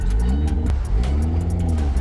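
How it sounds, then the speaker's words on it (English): A built turbo Mazda Miata with its exhaust unhooked idles and revs loudly up close, a raw, rough engine drone that swells in short pulses over a steady low rumble. "I think my exhaust is unhooked."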